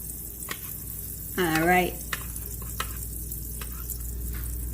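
French toast frying in melted butter in a non-stick skillet, a soft steady sizzle with a few light clicks and scrapes and a low background hum, while a voice briefly speaks over it.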